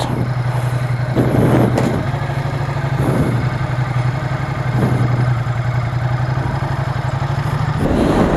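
A motorcycle engine idles steadily up close, its low, even thrum running without a break for the whole stretch, with a few brief clattering touches along the way.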